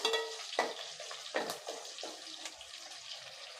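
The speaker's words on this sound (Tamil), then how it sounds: "இப்போ வெங்காயம்லாம் கொஞ்சம் நல்லா வதங்கட்டும்" Onions and curry leaves sautéing in a pan for tamarind curry, a soft steady sizzle with a few clinks and stirring scrapes of a spoon against the pan, close and fairly quiet.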